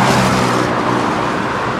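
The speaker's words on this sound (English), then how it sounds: "major artery here in terms of north and southbound traffic." Car traffic streams past on 23rd Avenue South at South Lane Street in Seattle, a major north-south artery, as a continuous broadband road roar, fairly close and steady, with no talk.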